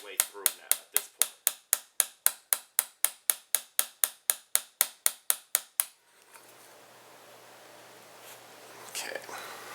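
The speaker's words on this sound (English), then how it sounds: "hammer that roll pin the rest of the way through" A hammer drives a roll pin into an AR-15 extended charging handle latch: about twenty sharp, evenly spaced metallic taps, close and loud for six seconds, then a quiet room with faint handling noise.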